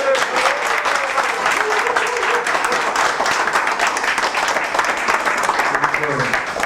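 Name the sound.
audience applause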